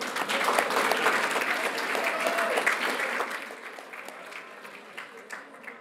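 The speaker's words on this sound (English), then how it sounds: "Can we please give Maddie a big round of applause?" An audience at an awards ceremony for the Victorian Aboriginal Honour Roll claps in a steady, dense round of applause that gradually thins and fades toward the end.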